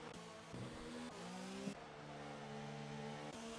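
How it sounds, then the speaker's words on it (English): Race cars from a PS4 racing game at the Spanish Grand Prix, a steady engine drone with rising and falling pitch as a car sweeps past, moderately loud and continuous with no talk. "I heard a car go past"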